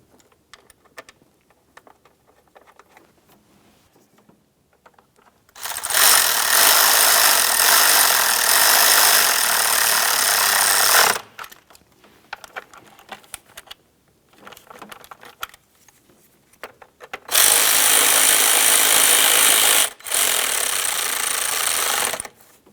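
Two long, loud bursts of a rapid, buzzing impact rattle, the kind a power ratchet or impact tool makes, tighten the bracket mounting bolts on a 2002-2005 Ford Explorer intake manifold. Quiet clicks and handling noises fill the gaps between the bursts.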